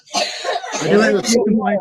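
A short burst of rough coughing, close and loud, with a throaty, hacking quality.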